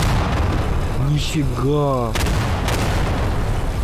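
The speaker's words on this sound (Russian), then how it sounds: "Давайте проверим, выдержит ли он прямое попадание с пушки" Cannon shots and explosions in the game Garry's Mod, dense booming blasts over a constant roar of battle noise, with a voice speaking briefly in the middle.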